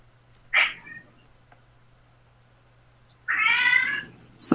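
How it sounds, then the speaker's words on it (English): A pet cat yowls twice in a household, a short cry followed after a pause by a longer, louder snarling wail, with a faint steady hum underneath. "my cats are fighting"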